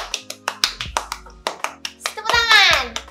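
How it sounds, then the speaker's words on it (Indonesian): Hands clap in a sharp, uneven burst of about a dozen close, loud claps, ending in a rising squeal or cheer. "Tepuk tangan"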